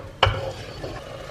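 Tomatoes sauté in a pan for an Indian-style zucchini side dish. A sharp stir or clink of a utensil against the pan is followed by a steady, soft sizzle close by.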